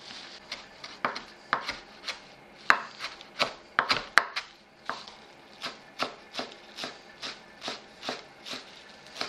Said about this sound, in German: In der Zwischenzeit können wir schon mal den Liebstöckel und die Petersilie klein hacken.